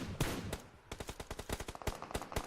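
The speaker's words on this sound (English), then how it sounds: "we're hearing a lot of gunshots indeed around" Gunfire in a PUBG Mobile esports championship match: rapid bursts of automatic shots and single cracks in an irregular rhythm, loud and sharp with brief gaps between volleys.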